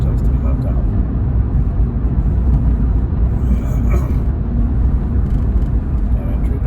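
Car interior on the road, with a constant low rumble of tyres and engine filling the cabin throughout while someone talks over it.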